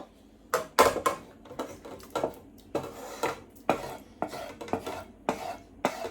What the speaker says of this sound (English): I'll bring the lentil over and then add the tadka to it.